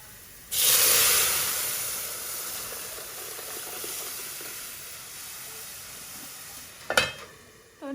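Dal poured into a hot tempering pan bursts into a loud sizzle that slowly fades over several seconds, followed by a brief clatter near the end, with no talk.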